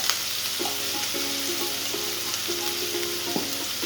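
Crushed shallots sautéing with salt in a pan for a Kerala-style crab roast, a steady close sizzle with occasional stirring scrapes and a sharp clack near the end, no talking.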